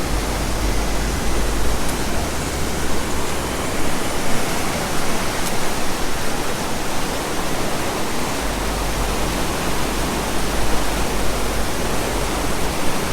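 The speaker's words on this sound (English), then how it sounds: "So there's some good rapids through here." Whitewater rapids at the U.S. National Whitewater Center in North Carolina roar in a dense, unbroken rush of churning water, loud and close, continuing without pause and without talk.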